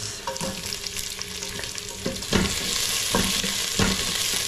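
Garlic and onion frying in a pan for pinapaitan, a loud, dense sizzle close by with intermittent scraping thumps from stirring, no voices.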